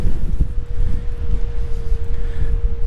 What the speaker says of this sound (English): The one thing you can definitely hear here at Fort Wordon State Park, the wind is serious out here.